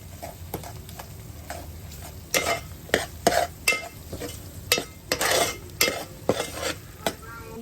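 A spoon stirs Kolhapuri black onion-garlic masala into whole masoor lentils in a pot, giving irregular scraping and clinking strokes over a soft sizzle, close and moderately loud.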